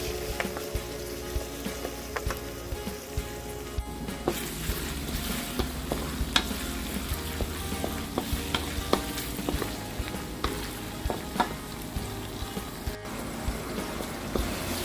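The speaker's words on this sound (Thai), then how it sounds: "ผัดพริกให้สุกให้หอมก่อนนะคะ" Chili stir-fried in a hot pan for spicy Thai basil chicken gives steady close sizzling and frying, with repeated scraping and clattering stirring strokes throughout and no talking.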